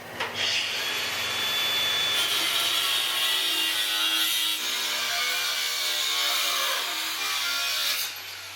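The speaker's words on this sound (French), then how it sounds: "Pendant que la scie coupe un 45 degrés" Saw cutting metal at a 45-degree angle while building a swivel hitch for a Toyota 4Runner, a continuous harsh grinding rasp lasting about eight seconds, fairly close and steady, ending abruptly, with no speech.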